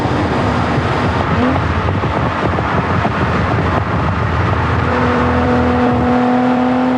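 A 1974 Lamborghini Countach LP400 at about 180 mph makes a loud, sustained engine roar with a high whining tone and rushing wind noise, heard close and steady throughout without speech.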